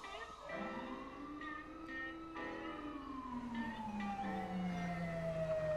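An ambulance siren in a GTA roleplay game wails as the vehicle arrives, its tone sliding down in pitch while it draws near, heard faintly with voices talking over it.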